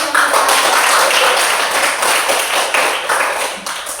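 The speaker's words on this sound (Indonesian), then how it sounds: "Berikan tepuk tangan" A roomful of people claps hands together in a loud burst of uneven clapping that runs steadily and fades slightly at the end.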